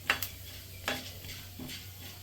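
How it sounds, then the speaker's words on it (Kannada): Urad dal fries in a pan with a faint sizzle, as a spoon scrapes and stirs it in three sharp metallic strokes, close by with no talk. "ಉದ್ದಿನ ಹಾಕಿ ಆಮೇಲಿಂದ ಅದನ್ನು ಸ್ವಲ್ಪ ಫ್ರೈ ಮಾಡಿಕೊಂಡು"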